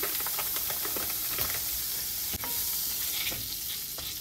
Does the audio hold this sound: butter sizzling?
yes